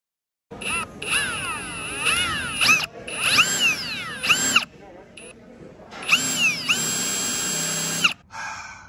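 A Ryobi power drill drives a screw in several loud bursts, its motor whining and rising in pitch, with short pauses between runs and a long final stretch.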